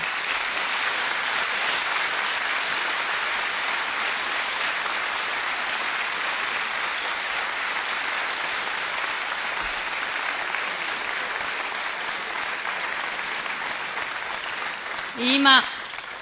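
Audience applause at a stand-up comedy show: a dense, steady round of clapping from a full crowd that lasts throughout, with a short burst of cheering near the end.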